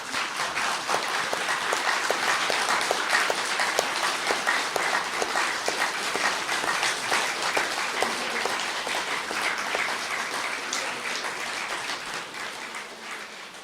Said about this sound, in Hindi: तो तालियां बजाएंगे जरा थोड़े से।